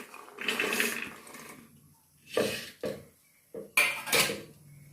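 Soaked chickpeas tipped into a metal pressure cooker for chole, as several clattering bursts of grains and metal knocks come close up, with short quiet gaps between them.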